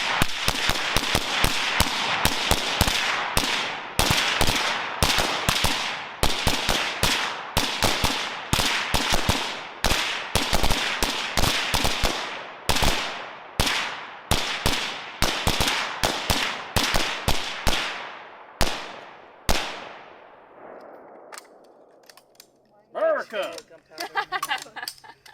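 Military surplus rifles fire together at zombie targets outdoors, a dense string of loud, sharp overlapping shots over about twenty seconds that thins to a few spaced reports, then stops, with brief talk at the end.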